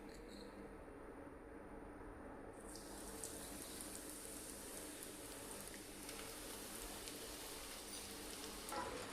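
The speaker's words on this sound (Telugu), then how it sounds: "ఈ కార్న్ అందులోకి యాడ్ చేసుకొని డీప్ ఫ్రై చేసుకుందాం" Sweet corn mixture deep frying in hot oil gives a steady, dense sizzle and bubbling that holds at an even loudness throughout, with no one talking.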